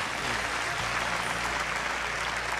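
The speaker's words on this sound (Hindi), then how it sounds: "ताली बजाई भाई, ताली बजाई भाई।" Audience applause at a Bhojpuri-Jharkhand folk singing competition stage show, steady broadband clapping filling the whole short stretch at moderate level, with no voices over it.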